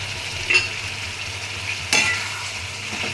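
Fish heads being stirred and turned in hot oil in a pan until dry, for a Bengali chachra: two distinct scraping stirs over a faint, steady sizzle and low background hum.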